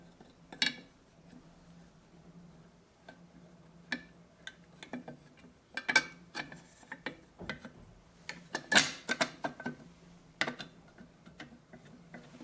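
Gears and shafts inside a home sewing machine turn and rotate against each other, giving a quiet, irregular series of mechanical ticks, clicks and ratcheting knocks with a faint steady hum underneath.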